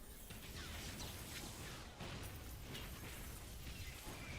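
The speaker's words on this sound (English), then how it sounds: "the explosive arrow upgrade that shoots another 3 extra explosions around the main" Explosive arrows burst in the video game Torchlight 3, a dense roar of overlapping blasts, crackles and rumble that stays loud and steady throughout, with no talking.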